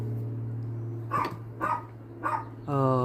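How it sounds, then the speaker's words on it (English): A dog barks three times in separate bursts outdoors beside a garden where ginger is being planted, over a steady low hum, followed by a louder harmonic sound at the end. "I hate when that dog just sits there and barks at me"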